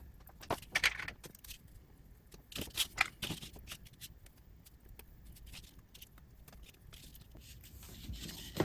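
Small plastic and metal clicks and rattles come from fitting wheel sets back into a Toronto Hamilton & Buffalo model train caboose, faint close-up fiddling with brief ticks clustered in bursts and quieter handling between.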